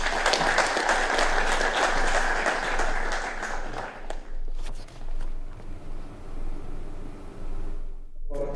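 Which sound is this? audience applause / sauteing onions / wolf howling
audience applause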